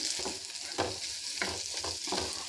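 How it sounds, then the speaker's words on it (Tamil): Onions sautéing in a pan for dry fish thokku, a low steady sizzle broken by several soft spatula scrapes and stirs, close by and fairly quiet, no voices. "நல்லா கலர் வந்து நல்லா ப்ரௌனிஷாக வர அளவுக்கு நல்லா வதக்கணும்"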